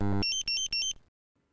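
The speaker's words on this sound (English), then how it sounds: "overrange alarm, indicating that the measuring range has been exceeded, is signaled by the audible, visual and vibration alarms" A Dräger X-am 2500 gas detector sounds its overrange alarm, a shrill electronic tone repeated in three quick beeps after a lower opening buzz, close and loud, then silence.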